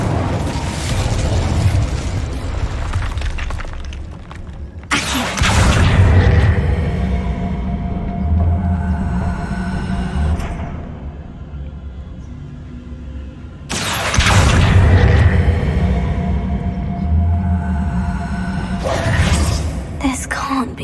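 Incendio fire spell explosions in Hogwarts Legacy, two loud sudden bursts several seconds apart, each followed by a crackling, roaring tail, with game dialogue heard between them.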